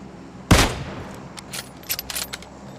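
A single loud gunshot headshot in PUBG rings out near the start, followed by a few fainter, sharp clicks and small impacts scattered over the rest of the moment, with no talking.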